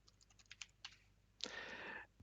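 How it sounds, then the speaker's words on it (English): Keys clatter on a computer keyboard as a password command is typed during a Linux install: a run of separate light clicks, then a longer dense burst of rapid keystrokes, close and fairly quiet. "So we'll type in passwd and hit enter."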